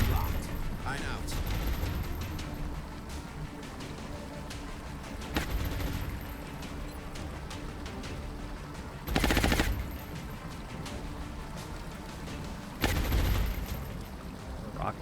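Suppressing gunfire in a turn-based tactics video game, aimed at a heavy floater alien: a few short bursts of loud automatic fire stand out against a busy background of mechanical clicks and game effects.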